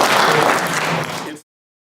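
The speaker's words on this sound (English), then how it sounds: "give yourselves a round of applause for being able to come" Audience applause at a community meeting, a short burst of crowd clapping that fills the room for just over a second and then cuts off abruptly.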